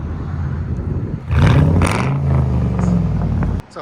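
A front-wheel-drive Chevrolet Impala SS with a 5.3 liter LS4 V8, aftermarket cam, built heads and a fully straight-piped exhaust idles with a loud, deep rumble, then revs up sharply and holds a raw, throaty roar before cutting off abruptly.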